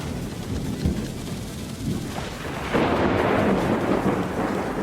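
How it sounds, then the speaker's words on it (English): Thunder rumbling during a stormy scene in the video game Paper Mario: The Thousand Year Door, a broad steady roar that swells louder midway and stays heavy, with rain-like hiss and no talk. "That thunder almost timed itself with Bobbery's explosion."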